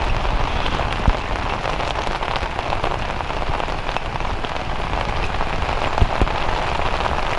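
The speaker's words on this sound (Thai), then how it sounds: "เราจะไปหลบฝนที่ไหนดีเนี่ย" Heavy rain pours steadily onto surfaces outdoors where a street vendor sells grilled chicken, a loud, unbroken hiss with occasional sharper drops and no voices.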